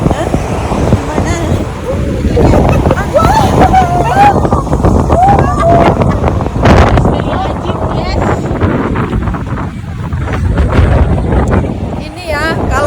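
Strong wind blows steadily and buffets the microphone, roaring loudly for the whole stretch while voices talk underneath it.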